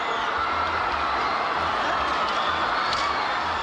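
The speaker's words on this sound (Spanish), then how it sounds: "La multitud no aplaudía, le abucheaba" A large outdoor crowd at a Bucharest rally for Ceausescu, a dense, steady roar of many voices sustained throughout, with no single speaker standing out.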